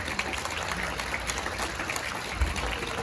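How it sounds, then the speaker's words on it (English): Applause from an audience at a martial arts display, a steady broadband patter of clapping filling the space for a few seconds without talk. "Big round of applause for CJ."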